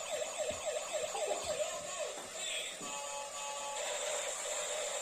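A toy ambulance siren with blue and red lights gives a wailing, repeating electronic tone that stays steady and fairly faint, with no talking over it, while a child plays with an illuminated toy police car.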